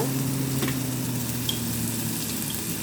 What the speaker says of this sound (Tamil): இதை வந்து நல்லா வதக்கி கொள்ளுவோம் ஓகே வதங்கட்டும்